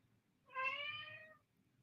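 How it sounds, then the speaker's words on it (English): A sad pet cat lets out a single drawn-out meow indoors, clear but moderately distant, alone against a quiet background. "Can you guys hear our cat? She's so sad."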